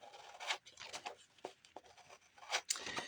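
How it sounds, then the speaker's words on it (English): Paper being cut from a magazine with scissors: a few close, soft snips and rustles in an uneven rhythm, quiet and with no talk. "Let's cut this off."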